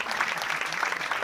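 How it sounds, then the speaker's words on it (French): A live podcast audience applauds the participants in a brief burst of dense, close clapping with a little crowd noise mixed in. "on applaudit tous les gens qui ont participé"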